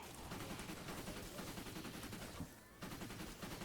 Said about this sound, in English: I do love how satisfying this game is to shoot stuff.